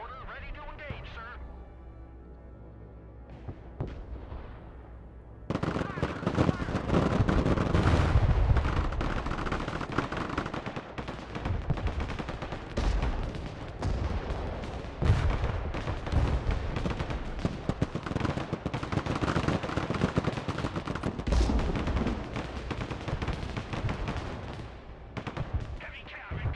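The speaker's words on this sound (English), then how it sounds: "Mortar ready to engage, sir." Mortar and artillery fire in the war strategy game Broken Arrow, a quiet start then dense booms and crackling gunfire in a continuous barrage, with radio voices talking over it.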